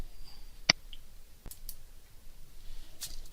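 A few sharp, isolated computer mouse clicks sound close against near silence, one crisp click followed by fainter ones spaced out over a few seconds.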